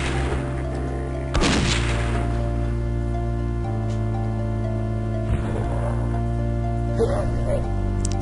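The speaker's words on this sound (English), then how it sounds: "So, let's get out the flare gun." A flare gun fires in the shooter Blood Plasma Pack, giving a few sharp, booming reports spaced seconds apart over steady game music.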